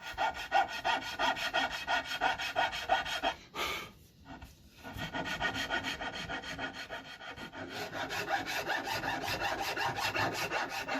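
Rhythmic rasping and scraping of hand tools carving a wooden guitar body, repeated strokes in steady bursts, a brief pause midway, then resuming close up.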